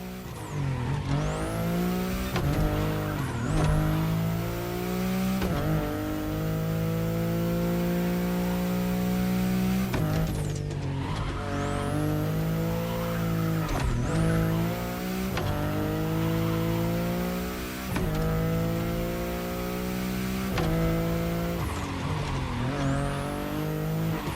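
A BMW i8 hybrid sports car in The Crew Motorfest racing game, its engine droning loud and close with repeated rising revs, gear shifts and brief tire squeals.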